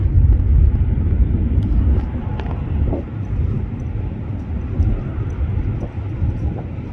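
An airliner takes off from an airport runway, its loud, deep engine rumble steady at first and slowly fading a little over several seconds.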